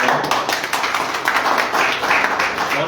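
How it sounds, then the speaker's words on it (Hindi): A church congregation claps in a hall, a dense, continuous burst of applause from many hands heard close and fairly loud throughout. "परमेश्वर के लिए जोरदार ताली बजा सकते हैं"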